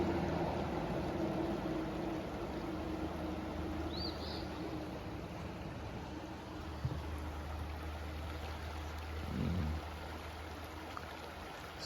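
Stony Creek flows as a steady, broad wash of water near a road bridge on the Appalachian Trail, a continuous outdoor rush with a faint low hum beneath and no voices.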